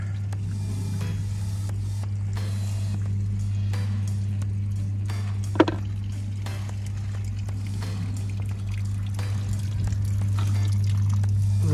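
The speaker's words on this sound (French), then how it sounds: "Le trop-plein qui fait son office." Steady running water pours continuously from a koi pond overflow over a low constant hum, with one brief sharp knock partway through.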